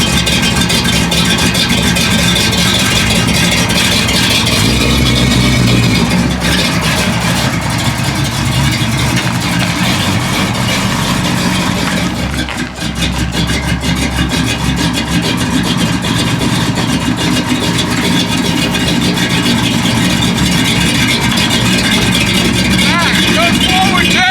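A 1955 Oldsmobile's engine runs steadily at idle with a newly fitted 4L60E transmission, a loud continuous rumble close by, while people talk over it.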